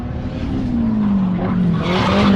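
Drift car with a mid-mounted turbo, a 25 Neo engine, sliding hard at a private drift day, its engine note wavering steadily beneath continuous loud tire squeal that builds toward the end.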